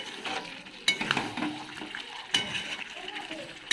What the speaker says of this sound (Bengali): মাংসটাকে এখন ভালো করে কষে নিই